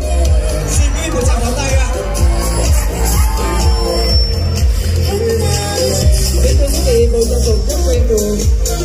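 An audience at a Saigon lô tô Miss Grand-style pageant show cheers and murmurs for a contestant, a dense, loud crowd swell beneath an amplified voice and music.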